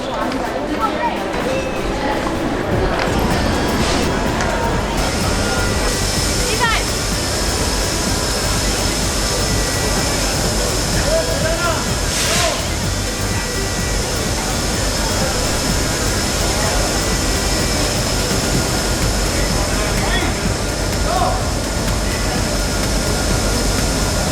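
A long Indian passenger train with AC 3rd class coaches pulls into a station, its steady rumble and rail noise continuous and close throughout, with people talking over it.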